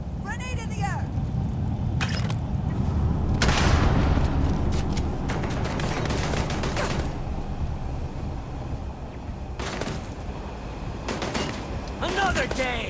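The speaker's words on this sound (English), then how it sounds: "Grenade in the air!" Video game combat with a low grenade explosion rumbling near the start, then scattered gunshots and mechanical clatter, under frequent in-game voice chatter.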